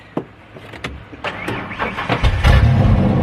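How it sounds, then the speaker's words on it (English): A newly bought truck starts up and pulls away, its engine rising into a loud, rumbling drive after a few clicks and thumps, close by with no talking. "First drive in my new truck."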